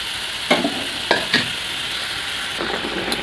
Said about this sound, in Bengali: বেগুন দুটো আগে থেকে দিয়ে দেবো, যাতে মশলাটা ভালোভাবে বেগুনের মধ্যে ঢুকে যায় আর ভালোভাবে সেদ্ধও হয়ে যাবে